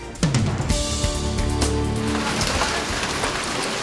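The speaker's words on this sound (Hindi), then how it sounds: "तेज आंधी के साथ ही जोरदार बारिश शुरू हुई।" Heavy rain lashing down with gusty wind during a sudden evening storm in Sawai Madhopur, Rajasthan, a dense, steady hiss of drops on surfaces, close and loud, with no voices.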